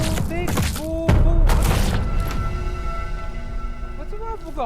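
A video game explosion bursts out as a heavy boom with a deep thump about a second in, set against an excited group of players shouting and chattering throughout.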